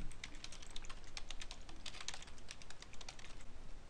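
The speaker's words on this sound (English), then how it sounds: "So I've typed in my Facebook login." Rapid, steady typing on a computer keyboard while entering a Facebook login, dense key clicks running continuously throughout with no voices.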